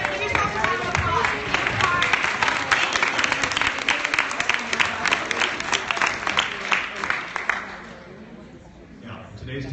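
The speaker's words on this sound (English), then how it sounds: "Everybody give yourself a round of applause." A crowd at a ClexaCon 2017 fan meetup breaks into loud, dense applause with cheering that lasts about eight seconds before thinning out into scattered claps and murmur.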